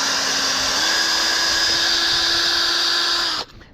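A power drill bores into timber with a steady, loud whine that lifts slightly in pitch early on, runs continuously for over three seconds, then cuts off abruptly.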